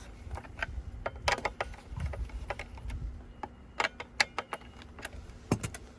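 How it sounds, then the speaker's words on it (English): Screws being tightened on an electric stove, heard as a string of sharp metallic clicks and ticks close by, irregular and spaced out over a quiet background hum. "now let's tighten the screws."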